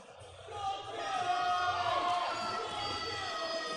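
Indoor crowd at a junior weightlifting competition cheers for lifter Dorji, a fairly faint, steady roar of voices and whoops that swells after a quiet start and holds.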